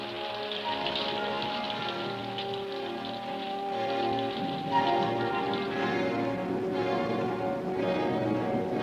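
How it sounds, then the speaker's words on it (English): Rain falls steadily in the Grand Canyon, its patter and drops dense and even throughout, heard under a sustained tonal music bed. "Rain falls."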